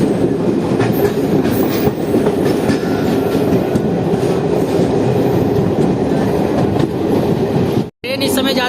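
Jaynagar–Samastipur passenger train pulling out of Tarsarai station, a loud, close, continuous rumble of rail cars with steady clickety-clack from the wheels, cut by a brief dropout near the end.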